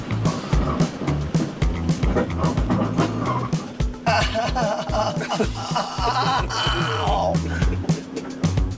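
An RV lurches along a rough, unmaintained switchback road through dense Humboldt Hills forest, its engine and chassis rumbling and creaking steadily over uneven ground, with occasional squeaky grinding higher up, loud and continuous throughout.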